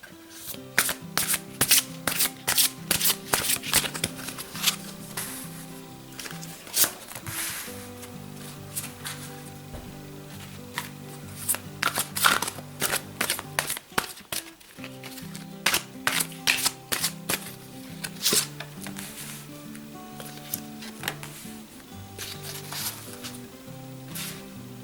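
Tarot cards are shuffled and laid out for a six-card hexagram spread: repeated crisp riffling bursts and soft slaps over quiet background music.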